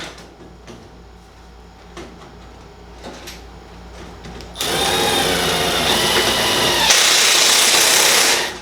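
A power drill drives screws during installation of a Rinnai Demand Duo R series tankless water heater; after quieter handling noises, the drill roars loud and steady for about four seconds, rising further near the end.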